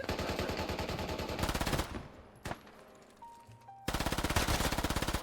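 Rapid bursts of automatic gunfire in the video game Squad, loud and close, breaking off briefly for a single shot and a pause before another sustained volley.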